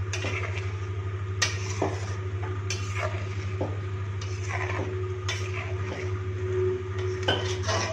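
A spoon stirs fried eggs into curry gravy in a pan for Tamil egg kulambu, giving scattered scrapes and light metallic clinks over a faint sizzle and a steady low hum, with no one talking.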